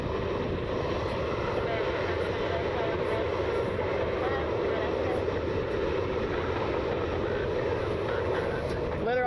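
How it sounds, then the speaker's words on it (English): A Boeing 737-900 jet airliner, flight 1487 bound for Atlanta, roars at Cleveland Hopkins International with a steady, broad engine rumble that stays constant throughout, with faint voices in the background. "Flight 1487, a 737-900, they're going to be heading down to Atlanta."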